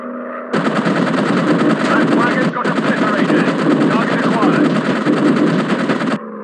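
Machine gun fire aimed at a plane in a WW1 air combat game, a loud continuous rattling burst lasting several seconds with a brief break, over steady engine drone.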